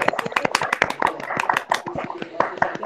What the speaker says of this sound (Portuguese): queria convidar vocês aí a aplaudirem a professora Miriam como forma de agradecimento aí pela participação dela